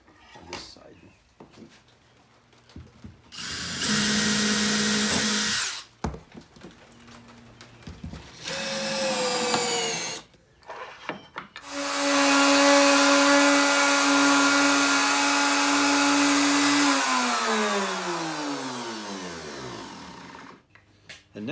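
A router cuts a T-slot groove in wood in several long, loud whining passes separated by pauses, the motor winding down in a falling tone at the end.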